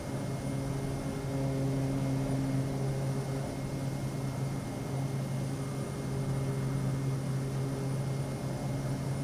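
Kodiak 100 turboprop aircraft in flight, propeller pulled back to 2000 rpm, giving a steady loud droning hum with strong low tonal bands and constant broadband engine roar from inside the cabin.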